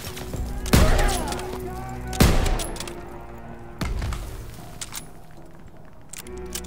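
Heavy gun firing in the World War II video game Call of Duty WWII: three loud, booming single shots spaced over a second apart, followed by fainter scattered bangs.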